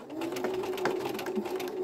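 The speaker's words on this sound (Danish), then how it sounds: "jeg skal helst lade symaskinen selv trække stoffet igennem" A sewing machine stitches jersey fabric for a tunic with a steady, close mechanical hum and light rhythmic needle ticking throughout.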